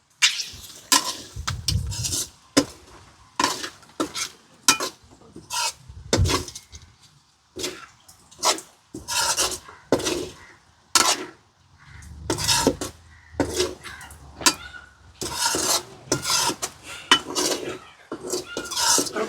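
Chicken gizzards being stirred in a pan with curry leaves, salt and chili, repeated sharp scraping and clinking of a spoon against the pan in irregular bursts with quiet gaps between.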